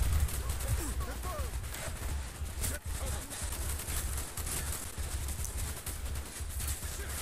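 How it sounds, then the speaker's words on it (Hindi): Gunfire from the video game Call of Duty: Black Ops, a dense, continuous rattle of distant shots and bursts under a steady low rumble of game ambience, with no clear single shots standing out. "वो देखो वहाँ से गोलियाँ चल रही हैं।"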